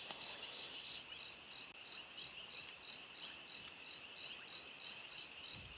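Crickets and other insects chirp at night on an African safari, a steady pulsing trill repeating in regular bursts about twice a second, fairly faint and alone against quiet darkness.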